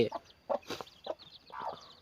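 Breeder hens on a Thai poultry farm cluck in several short, close bursts, with a longer run of calls toward the end and no talk over them.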